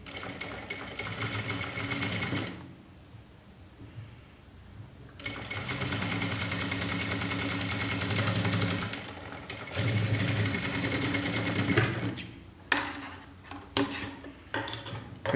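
A sewing machine stitches a blouse seam in steady whirring runs with brief pauses between them, close and loud, ending in short stop-start bursts.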